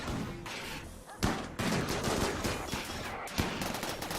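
Turrets fire rapid bursts at centipedes in the colony game RimWorld, a dense continuous rattle of gunfire with a few louder impacts and no talking.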